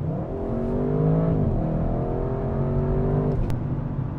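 Audi RS6 engine with eight-speed automatic accelerating hard, a loud, close, continuous growl rising in pitch with a brief dip at a gear change midway, then climbing again before easing off.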